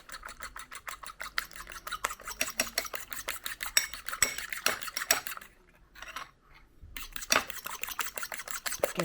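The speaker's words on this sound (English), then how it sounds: "Gonna mix this, lad." Weetabix cake batter is stirred in a bowl, a utensil scraping and clinking against the sides in quick, close, repetitive strokes, with a brief pause near the end before the mixing resumes.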